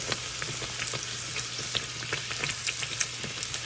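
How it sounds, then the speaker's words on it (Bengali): Kachori frying in hot oil, a close, continuous sizzle and crackle with small bubbling pops scattered throughout, steady and without speech. "প্রথম কচুরিটা বা লুচিটা অনেক সময় ফোলে না যাই না এটাও সেরকম হবে কিনা একটু একটু ফুলছে"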